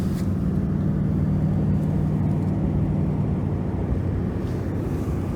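A car drives up a road with a constant low engine and tire rumble, heard from inside the cabin, steady and unbroken with no talking.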